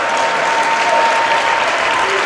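A tennis crowd at a challenger tournament in Calgary breaks into loud, sustained applause after a point, the clapping dense and continuous throughout.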